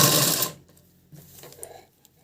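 A sewing machine stitching a fold on a round-neck blouse: a short loud burst of whirring stitching, then quiet with a few faint clicks and handling sounds.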